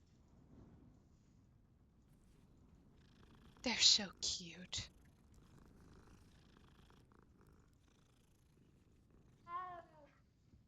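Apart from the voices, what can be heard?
cat purring in a video game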